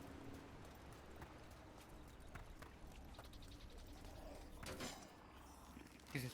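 Horse hooves clip-clop in the fantasy game Dragon Age: The Veilguard, a quiet, uneven run of hoof strikes over low ambient game sound, with a brief louder burst near the end.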